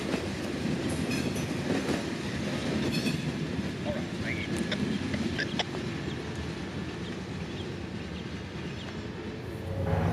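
Freight train IO-2514 slowly rolling past at Cordele, Georgia, a steady near rumble of rail cars with clicking wheels and occasional faint squeals.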